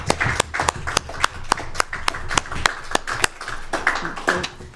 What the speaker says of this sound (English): So can we have a round of applause for those three people, please?